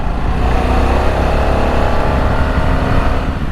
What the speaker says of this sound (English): the engine itself is very smooth. For a big old V-twin, Harley have done an amazing job